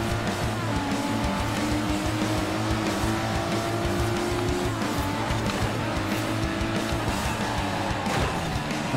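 Nissan R33 GTR racing in Forza Horizon 4, its engine droning steadily with shifting pitch under continuous road and tire noise, loud and close throughout without pause.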